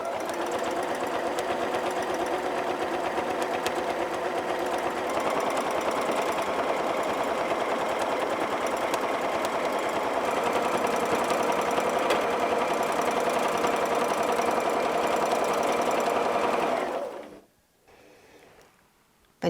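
A sewing machine free-motion quilting roses runs in a fast, steady close-up rattle for about seventeen seconds, its rhythm shifting slightly partway through, then stops abruptly, leaving quiet handling sounds.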